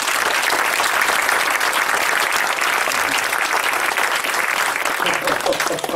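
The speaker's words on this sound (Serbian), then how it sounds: "molim vas jak, jak aplauz i zahvalnost porodici Jakšić" A crowd gives loud, sustained applause at a poetry reading during an international art colony's tenth-anniversary gathering. The dense clapping runs without a break, close and full, with no voices over it.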